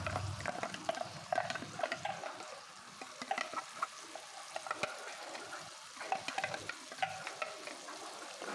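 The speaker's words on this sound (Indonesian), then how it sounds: "kita tumis sampai langu dari cabenya hilang" Ground chili and garlic sautéing in a pan, with steady sizzling and frying crackle interrupted by repeated scraping and stirring strokes, close and moderately loud with no talking.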